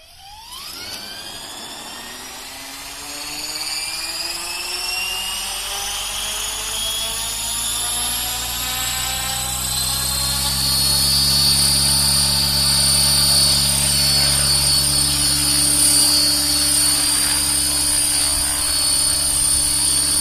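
An RC model helicopter with a V-Bar governor spooling up for takeoff, a rising whine that climbs steadily in pitch, then settles into a loud, constant rotor and motor drone at set head speed.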